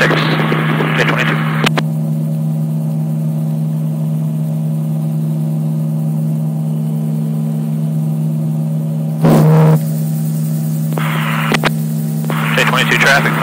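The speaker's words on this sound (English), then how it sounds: "Simulated engine out, going to do a dead stick landing" RAF 2000 gyroplane in flight with the engine pulled back for a simulated engine-out dead stick landing, a steady low drone and hum throughout, with brief radio talk bursts and a short louder rush near the end.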